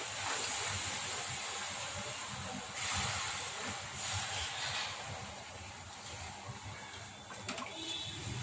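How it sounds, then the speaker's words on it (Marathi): Water comes to a boil in a pot on a gas stove while patwadi batter is being made with besan, giving a steady, close, hissing bubbling that fills the whole stretch without talk. "हे बघताय आता पाण्याला उकळी आली ना"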